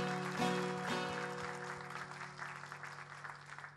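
Audience applause at a Turkish village association gathering from Tokat, a steady broadband patter of hands under sustained saz-like musical tones, fairly close and even in level throughout.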